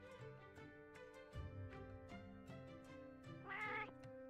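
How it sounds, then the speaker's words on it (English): A meow from a cat in Final Fantasy XIV rises near the end over sustained game music and a steady rhythmic beat. "Talking cat?"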